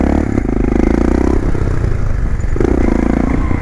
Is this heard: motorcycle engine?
yes